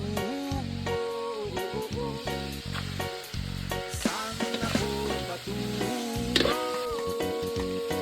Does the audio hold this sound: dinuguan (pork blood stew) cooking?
yes